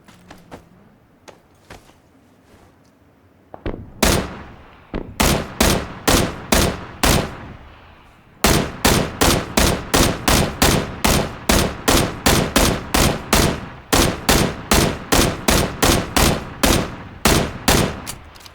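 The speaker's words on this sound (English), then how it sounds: "If we can get a position, I'm going to fire at him." Gunfire in the battle-royale game PUBG: a few quiet clicks, then a loud string of evenly spaced shots, a short pause, and another long rhythmic run of close, sharp rounds.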